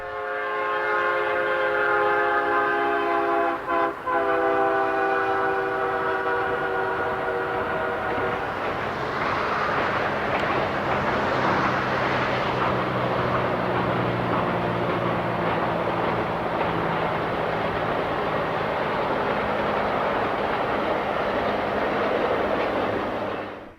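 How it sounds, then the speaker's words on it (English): Southbound Norfolk Southern Triple Crown train 249 at Clemson in 1989, its horn sounding loudly for several seconds before a sustained roar and rattle of cars passing close by. "the two Eds caught southbound Triple Crown train 249 at Clemson"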